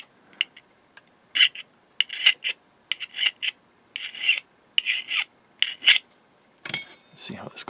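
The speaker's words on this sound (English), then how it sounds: "I'll just take a file and I'll just remove a little bit of metal here" A hand file rasping metal off a part of a Technics SU-V707 integrated DC amplifier, close and clear, with a series of short scraping strokes in an irregular rhythm.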